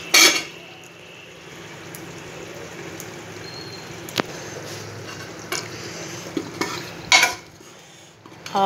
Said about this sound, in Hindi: आलू डाल के भुनेंगे।